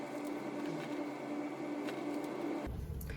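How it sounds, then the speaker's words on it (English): A sewing machine runs steady edge stitching along the bottom edge of a McCall's 8011 misses' jacket, a continuous close mechanical whir. It cuts off abruptly near the end, leaving a low thump. "I'll go along and edge stitch then top stitch just along this bottom edge here"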